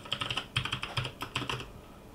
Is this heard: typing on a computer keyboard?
yes